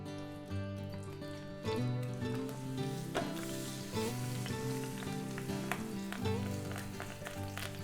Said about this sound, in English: while that's searing, because it will take a good 5 to 7 minutes to get a good sear on that fat cap